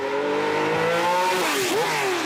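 A Le Mans prototype with a 600 hp V12 accelerating on a circuit, high engine tone rising through a gear, then a quick shift and a dip before climbing again, loud and close.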